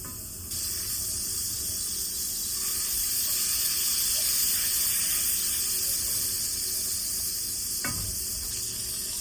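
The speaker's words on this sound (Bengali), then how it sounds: "এবারে একটি কড়াই গরম করে আমি এখানে বাটার দিয়ে দিলাম" Butter melting in a hot wok, a steady broadband sizzle and hiss that swells slightly after the first moment and holds evenly, with one brief knock near the end and no talking.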